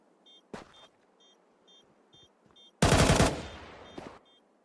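Gunfire in a Counter-Strike 2 competitive match, a single sharp shot early, then a loud, dense burst of rapid automatic fire, with faint beeps and a quieter shot following.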